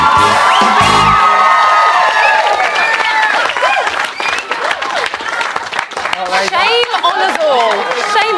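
A British TV studio audience bursts into loud, sustained applause with cheers and whoops for a celebrity guest, the clapping dense and close throughout, thinning slightly toward the end.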